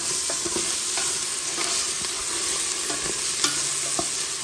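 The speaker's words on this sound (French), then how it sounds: "Je mélange tout ça." Rice, greens and pork fry in a pan as they are stirred, giving a continuous loud sizzle broken by regular scraping strokes, with no talk.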